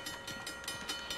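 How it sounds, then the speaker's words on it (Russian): Rumbling rail noise of an approaching train in the video game Uncharted: The Lost Legacy, steady and fairly loud with a faint rhythmic clatter, heard alone. "Поезд приближается"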